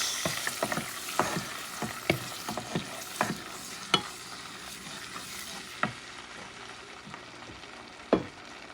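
Chicken wings stewing in tomato sauce are stirred in a pot, a spoon scraping and clacking in a long run of irregular strokes over a steady low simmer, with a few sharper knocks standing out.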